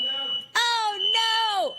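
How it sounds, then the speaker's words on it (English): A fire alarm sounds indoors in a home, a loud, steady electronic tone that drops out briefly and then resumes, lasting almost two seconds. "I don't know if editing's going to keep in our fire alarm that just went off."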